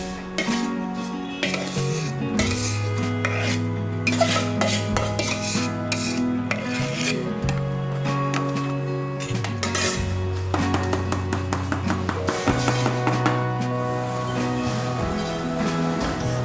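A spoon scrapes homemade ice cream out of a pot into a container, metal scrapes and clinks repeating irregularly over a soft background hum.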